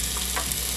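Onion and garlic hit hot oil in a pan, giving a steady, close hiss of frying that holds level throughout, with no voices.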